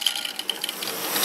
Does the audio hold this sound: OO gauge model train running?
yes